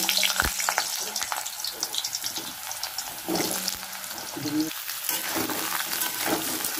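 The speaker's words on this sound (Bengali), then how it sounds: "ডিমের আলুগুলো একটু ভেজে নেব" Potatoes fry in a pan for an egg omelette curry, a loud, steady sizzle and crackle running throughout with occasional clinks and scraping from stirring.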